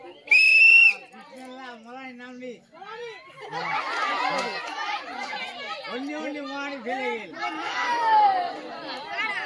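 A sharp whistle is blown once near the start to begin a children's balloon-popping game, loud and close, then excited chatter and laughter from a group of kids carry on underneath.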